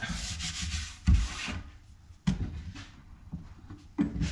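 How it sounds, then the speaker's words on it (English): A cloth rubs along a glued-up wooden panel to wipe off excess wood glue, three bursts of brisk scrubbing strokes close by, separated by short pauses. "I like to wipe off the excess glue."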